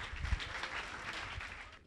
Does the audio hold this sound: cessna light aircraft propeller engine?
no